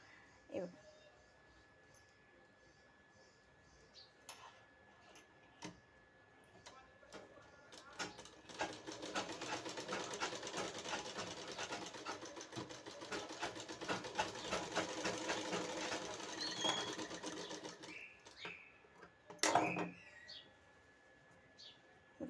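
A sewing machine runs in a steady mechanical rattle for roughly ten seconds while stitching a katori blouse, with quieter handling clicks before and after and a brief voice near the end.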